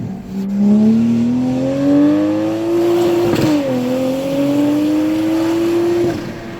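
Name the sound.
tuned Toyota A90 Supra engine accelerating on mountain road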